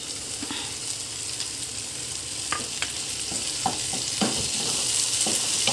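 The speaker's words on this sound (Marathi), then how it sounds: "हे टोमॅटो पण आपण परतून घेऊया" Tomato frying with onion and chilli in a pan for kanda poha, a steady close sizzle broken by several sharp scraping clicks as a spatula stirs it.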